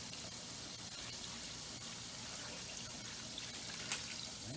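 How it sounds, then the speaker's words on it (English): A quart of water pours steadily into a stew pot, a continuous hissing, splashing stream close by, heard alone with no talking. "My third hand here is going to pour in the next quart of water."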